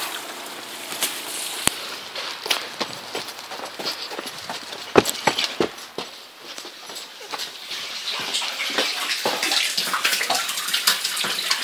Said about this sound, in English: There's the shower.